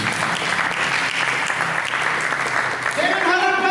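A church congregation breaks into applause, a loud, dense burst of clapping with a crowd murmur, and a sustained musical tone rising underneath near the end.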